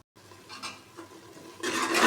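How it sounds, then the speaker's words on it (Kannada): A spoon stirs masala with mustard seeds and curry leaves in a pan for horse gram sambar, making a few short, soft scraping strokes that grow louder and rougher near the end. "ಈಗ ಮಸಾಲೆ ಚೆನ್ನಾಗಿ ಮಿಕ್ಸ್ ಮಾಡ್ಕೋಬೇಕು."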